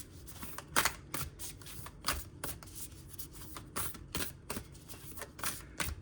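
Playing cards being shuffled for a card reading, a close, quiet run of soft riffling bursts and slaps coming in an uneven rhythm, with no voice over them.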